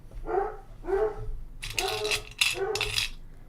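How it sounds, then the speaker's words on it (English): A pet dog barks repeatedly as someone arrives home, four or five loud, close barks in an uneven rhythm, the later ones harsher and brighter, with faint room noise between them. "That is Coco's bark for Dave is home."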